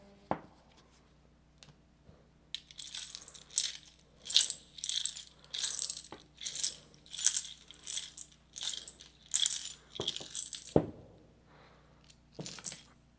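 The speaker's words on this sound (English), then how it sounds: "Go into my bone casting bag." Bones, rocks, a shark tooth and a pine cone rattle and clatter out of a bone casting bag, a dense run of clicking, knocking taps in close, uneven bursts, with a few sharper isolated knocks before and after.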